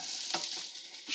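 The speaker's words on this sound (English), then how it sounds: "you can hear it sizzling." Onions sizzle loudly in an Instant Pot as they sauté, a steady bright frying hiss that holds through with a brief surge when stirred.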